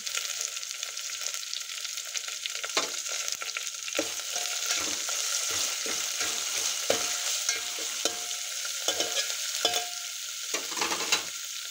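Curry leaves added to hot oil over a garlic-coconut masala, a bright, loud spitting sizzle that runs steadily, broken by repeated clicks and scrapes of stirring.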